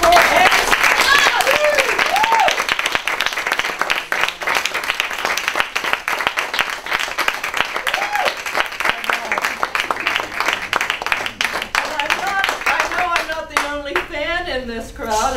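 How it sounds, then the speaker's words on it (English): Sustained applause and clapping from a crowd, with cheering voices and whoops rising above the steady patter of hands throughout. "Let's give it up for Anne Stott"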